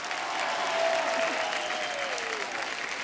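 Studio audience applause for a film's star cast on a television comedy show, a dense, sustained burst of clapping and crowd noise that swells slightly and then holds steady.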